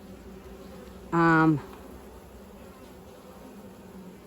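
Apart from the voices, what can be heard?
honeybees buzzing at the hive in the apiary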